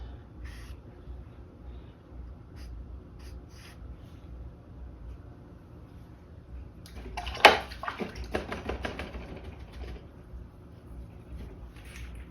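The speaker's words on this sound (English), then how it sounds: "I'm just rinsing my brush out" A paintbrush rinsed in a water cup gives soft, close swishes and clinks, with a brief splashy burst in the middle over a low background hum.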